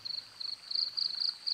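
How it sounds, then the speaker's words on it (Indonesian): Crickets chirp at night beside a river, giving a steady, high, pulsing trill in repeated bursts that is faint and continuous with no voices. "Suara jangkrik bernyanyi bercampur baur dengan gumaman sungai."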